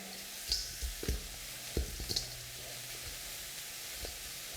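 Cornbread and wild rice dressing ingredients being stirred, heard as a few soft knocks and scrapes of a utensil in a bowl over a low hiss, quiet and close, with no talk.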